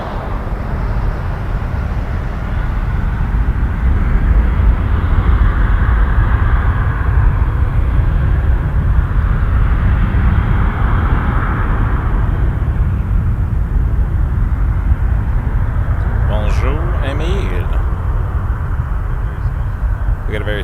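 A Saudia Boeing 787-9 airliner departs Toronto Pearson at night, its engines a loud, steady broadband roar that holds throughout, with faint bird-like chirps appearing near the end.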